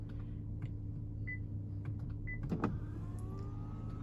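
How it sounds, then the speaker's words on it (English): The rear window shade of a Cadillac CT6 3.0 Twin Turbo rises with a faint electric motor whine over a steady low cabin hum, with a couple of soft short tones before it. "you also have a shade which like rises up in the back."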